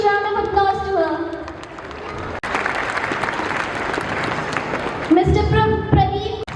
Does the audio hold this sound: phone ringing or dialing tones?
no